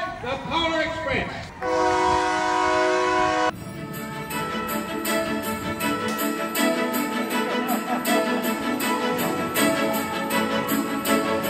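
Polar Express holiday excursion train sounding a loud, sustained horn blast that cuts off abruptly, followed by steady rolling rail clatter with rhythmic clicks, with voices audible at times.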